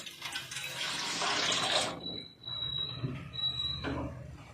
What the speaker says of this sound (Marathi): त्यामध्ये अर्धा जग पाणी ओतून घ्यायचं आहे